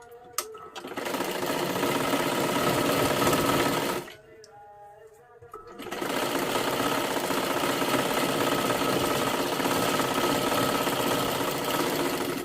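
Electric sewing machine stitching a kurti top or salwar, running in a steady loud whir for about four seconds, stopping briefly, then resuming in a continuous close, even drone.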